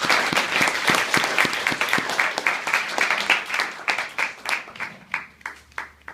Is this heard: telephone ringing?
no